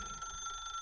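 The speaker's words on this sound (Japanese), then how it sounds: "電話鳴ってるよ。" A telephone rings inside The Stanley Parable video game, a steady electronic bell tone sounding briefly and faintly on its own with no talk.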